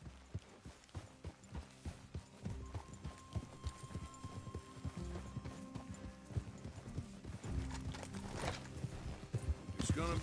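Rapid galloping hoofbeats of a horse in Red Dead Redemption 2 drum on steadily and fairly close, with game music or ambience and some voices mixed underneath.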